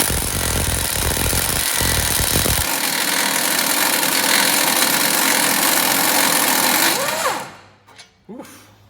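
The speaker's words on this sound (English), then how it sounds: "I'm going to use the impact. You use electric. I'm using my little air one." Small air impact wrench removing a brake bolt on a 2007-2011 Honda CR-V, a loud continuous buzzing rattle for about seven seconds that cuts off sharply, followed by faint clinks.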